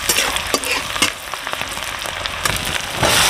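Chopped onions and chilies frying in a hot pan for a pahadi-style egg curry, a loud, close, steady crackling sizzle with a few spattering pops, no voices.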